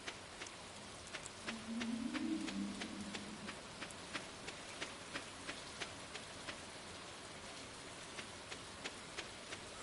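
Soft, steady rainfall in the farming game Stardew Valley, a faint even patter with regular light ticks running throughout and a brief low murmur near the start.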